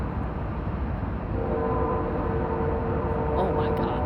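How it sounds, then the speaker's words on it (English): A long train rumbles steadily past nearby, with a sustained horn tone entering partway through, and people talking over the noise. "Oh my God, this is a long train"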